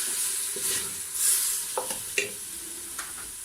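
Harira soup with cumin is stirred in a pot over medium heat, giving a soft hissing sizzle with a few light scrapes and taps of the utensil, fairly quiet and close, no speech.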